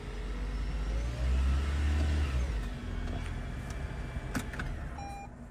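A Toyota Prius engine idles right after an oil change, a steady low hum that swells briefly as it is revved, then settles back, with a light click near the end.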